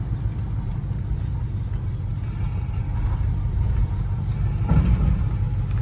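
A 1969 barn-find car on its first road test drones steadily from inside the cabin, its engine note holding a low, even rumble with a slight rise and a brief rattle near the end.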